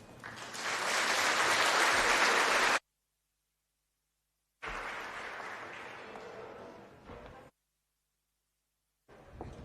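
A crowd at the Western Cape Prestige Agri Awards claps in separate bursts, a dense wave of applause building and fading, cut by silent gaps before another shorter round starts.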